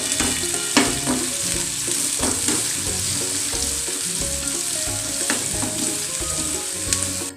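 Chopped onion and about ten garlic cloves sauté in a hot pan for a Tamil lentil-dumpling kuzhambu, giving a steady close sizzle broken by repeated scrapes and clanks of stirring, with no voices.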